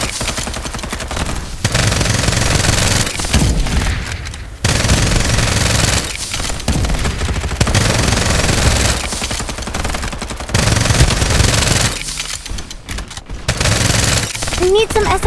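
SMG fire in the mobile shooter Farlight 84: long, rapid automatic bursts fill most of the stretch, broken by short pauses, with game voices speaking over the shooting.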